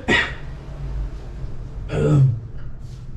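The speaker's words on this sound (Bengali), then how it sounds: "কি কাশছিস কেন তখন থেকে?" A person coughs twice up close, two short harsh bursts about two seconds apart, with a quiet room between them.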